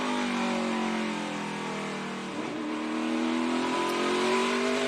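A race car engine screams under heavy throttle during qualifying at a short paperclip-shaped oval, a loud, close, sustained roar that dips briefly and then climbs again as the car accelerates, with no talk over it.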